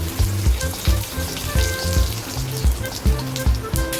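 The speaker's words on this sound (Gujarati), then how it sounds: "આપણું તેલ અહીં ગરમ થઈ ગયું છે તો હવે આપણે તેમાં અડધી ચમચી જીરું નાખશું થોડા લીમડાના પાન નાખશું" Cumin seeds and curry leaves hit hot oil in a pan, giving a close, steady crackling sizzle with quick pops throughout and no talking.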